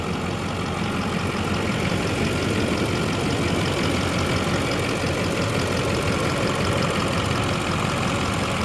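A 2005 Duramax LLY diesel truck engine, freshly fitted with new head studs, gaskets and CP3 pump, idles in neutral with a steady, loud clattering diesel rumble throughout, no talking.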